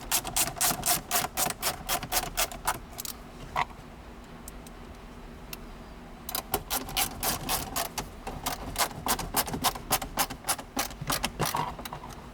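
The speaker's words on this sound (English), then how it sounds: "put your 4 screws back in" A power driver runs screws into a car dash during a head unit install, giving rapid close ratcheting clicks in long bursts, a quiet pause in the middle, then more rapid clicking bursts.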